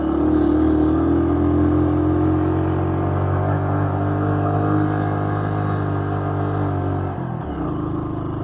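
A motorcycle climbs a steep, rough road, its engine droning loud and close without a break. The low rumble holds steady for about seven seconds, then drops sharply as the rider eases off, and the revs pick back up.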